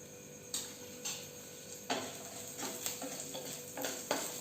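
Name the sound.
curry leaves sizzling in ghee with cashews and spices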